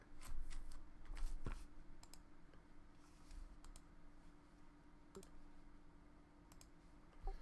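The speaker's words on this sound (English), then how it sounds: "you just hear all kinds of furious typing." Furious keyboard typing in the Bay City Chronicles video game: quiet, rapid, irregular key clicks that keep going throughout, faint against a low background hum.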